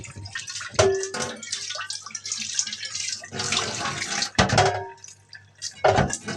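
Boiling water pours over taro in a strainer, a continuous splashing gush with brief louder bursts and clatter, steady and close, with no talk over it.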